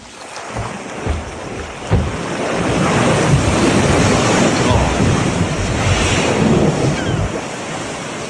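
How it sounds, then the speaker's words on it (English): Ocean waves and surf roar steadily, with broad washing noise swelling and holding, mixed with wind buffeting the microphone; no talking. "the ocean is beautiful, and I hope to see the ocean again someday"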